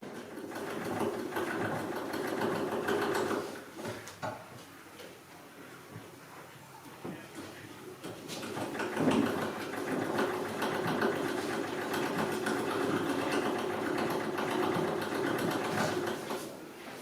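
A Wilcox & Gibbs sewing machine runs at a museum, a steady mechanical whirring hum that continues with a brief lull in the middle.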